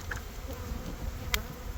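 Honey bees buzz steadily around hive frames during spring colony management, a close, continuous hum with one brief sharp click near the end.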